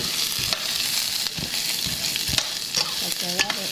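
Onion hits a hot pot for macaroni and chicken soup, sizzling and frying steadily up close while a spoon stirs and scrapes through it, with no talk.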